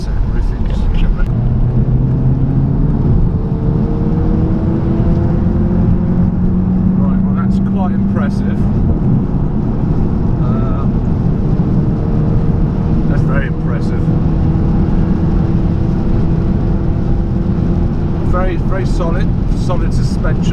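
An automatic Audi TT mk3 accelerating on a dual carriageway, a steady in-cabin engine and road drone with rising pitch as it speeds up, while occupants talk over it.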